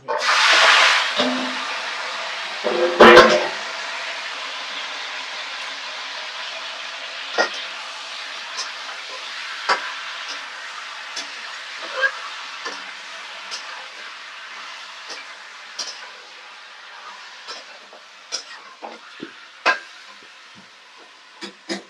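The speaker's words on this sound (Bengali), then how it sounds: "এই যে তেলটা গরম হয়েছে, এবার শুধু চিকেনটা এরকম ছেড়ে দেবো।" Pieces of chicken, about 1.5 kg, go into hot oil for a Bengali chicken stew, with a loud splash of sizzle at first that settles into a steady frying hiss and scattered crackles and pops.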